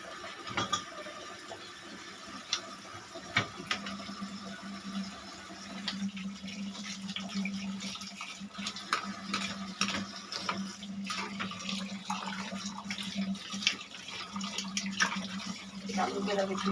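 Spoons being washed under a running kitchen tap, with a steady stream of water splashing into the sink and scattered light clinks of metal throughout, fairly quiet and close.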